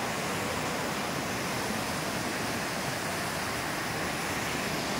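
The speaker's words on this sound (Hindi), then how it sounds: "बरसात का पानी" Heavy rain falls at the Tapkeshwar Mahadev cave temple as an even, unbroken hiss, with no voices or other sounds over it.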